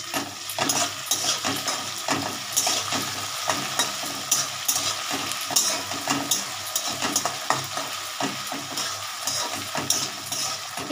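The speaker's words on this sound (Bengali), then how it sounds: "আলুগুলো আস্তে আস্তে ভাজা ভাজা হচ্ছে" Potatoes and garlic fry in a pan over a gas flame, making a loud constant sizzle with frequent crackling pops and scraping stirs throughout.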